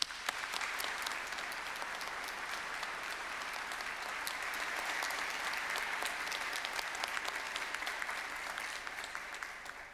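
Audience at a Monash University graduation ceremony applauding graduates, a steady, even roll of many hands clapping filling a large hall for the full stretch, heard from a distance.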